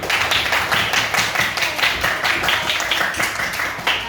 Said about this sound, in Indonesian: berikan tepuk tangan untuk kelompok komodo karena sudah tepat waktu melaksanakan diskusi di luar